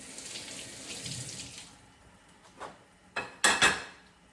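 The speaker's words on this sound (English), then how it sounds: "I will clean my knife" Running tap water splashes over a kitchen knife at a sink while a beef and tomato soup is prepared, a steady faint stream followed by several sharper bursts of splashing near the end.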